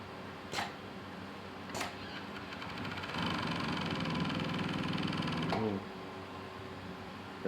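A sewing machine runs briefly while stitching fabric, a rapid mechanical chatter lasting a few seconds between short taps, fairly quiet and close.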